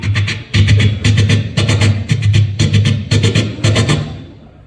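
A man vocally imitates a train crossing a bridge over the Godavari river at Rajahmundry, producing loud rhythmic chugging bursts in a repeating clackety pattern that fades at the end.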